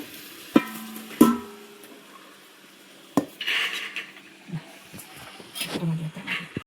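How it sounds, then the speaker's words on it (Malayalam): Cooked rice being spread and pressed in a copper pot, with sharp metallic clanks of a utensil against the pot and softer scraping and pressing sounds between, close by. "ഇതിങ്ങനെയാണ് പരത്തി കൊടുക്കട്ടെ ചോറ്"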